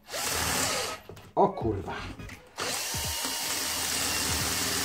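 A power drill bores a hole during a tire swap on a Xiaomi M365 Pro electric scooter, whirring in short close bursts that stop and restart, with a man muttering between them.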